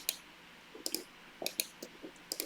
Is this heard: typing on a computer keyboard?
yes